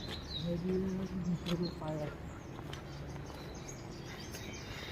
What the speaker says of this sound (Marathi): एकदम शांतता पक्ष्यांचा आवाज येते